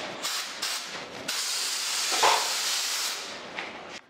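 A Graco Merkur air-assisted airless paint sprayer hisses in loud, steady bursts, with brief pauses and shifts in intensity between sprays.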